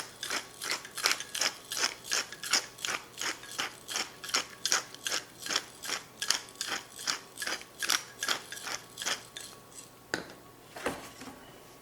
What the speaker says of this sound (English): I'm going to put some freshly crushed black pepper.